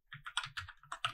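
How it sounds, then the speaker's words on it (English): Typing on a computer keyboard during a Kotlin programming session, a quick run of about eight crisp close key clicks in an uneven rhythm, with no voice. "So we'll start by simple typing."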